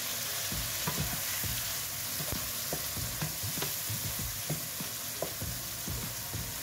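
Chopped eggs go into a pan where garlic and spring onion stalks are already frying, giving a soft, steady sizzle broken by regular scraping taps of a utensil stirring.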